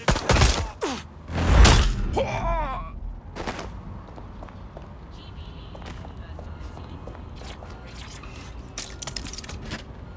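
Gunfire in Watch Dogs Legion: a cluster of loud sharp shots up front, then scattered fainter cracks and footsteps in the background, with speech at moments.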